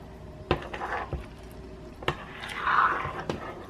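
Chocolate bundt cake batter stirred in a bowl, a few sharp knocks of spoon against the bowl with soft scraping and squishing between them, close by.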